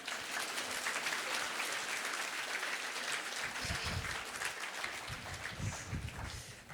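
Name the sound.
congregation applauding the Lord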